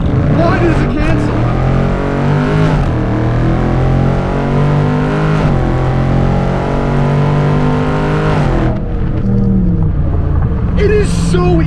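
A Dodge Scat Pack car accelerates hard after a 3,000 RPM launch. The loud, close engine roar climbs in pitch, drops briefly at each gear shift, then rises again.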